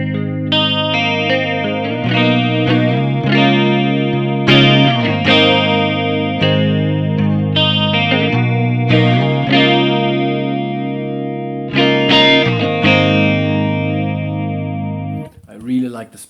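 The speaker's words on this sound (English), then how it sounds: "Then we have the MXR analog chorus." Electric guitar run through an MXR analog chorus pedal on a Pedaltrain Nano board, played as a series of strummed chords with a warm, wavering shimmer, close and fairly loud, with a short burst of noise at the very end.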